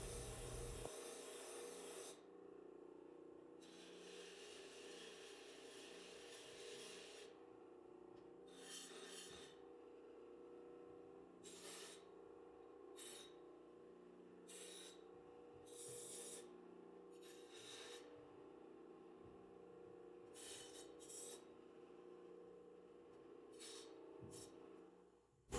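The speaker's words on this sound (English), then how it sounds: "let's walk over to the grinder and do some cleanup" Bench grinder cleaning up the mitred corners of metal shelf frame pieces, a steady continuous grinding rasp with short bursts of higher contact noise, running alone and fairly close throughout.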